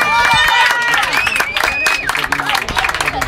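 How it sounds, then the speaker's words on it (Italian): Crowd applauding and clapping at a children's fishing competition prize-giving, a dense burst of handclaps with excited voices and chatter mixed in throughout. "Un applauso!"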